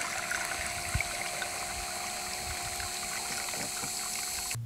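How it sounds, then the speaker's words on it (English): An impeller mixer stirs water in a bucket to prepare a Bora-Care mix, giving a faint, steady motor hum with a soft watery wash throughout, apart from one brief knock. "Now start the impeller mixing before you start pouring in the Bora-Care."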